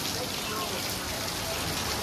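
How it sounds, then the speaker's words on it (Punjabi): Heavy rain in Goa, a dense, continuous hiss of rainfall pouring loudly and evenly close by, with no break across the short stretch. "ਗੋਆ ਚ ਮੀਂਹ ਬਹੁਤ ਪੈ ਰਿਹਾ"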